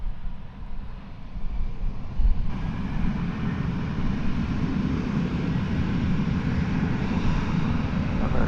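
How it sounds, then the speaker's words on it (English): Alaska Airlines Flight 303, bound for Portland, Oregon, takes off from DFW Airport on runway 36 right, a steady loud jet engine roar that holds and builds slightly throughout, with no talk. "Alaska Airlines Flight 303 off to Portland, Oregon"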